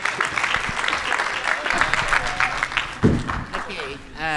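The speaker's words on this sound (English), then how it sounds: "Just another round of applause, please." An audience at a conference closing plenary breaks into a dense round of applause, close and sustained, with some voices mixed in.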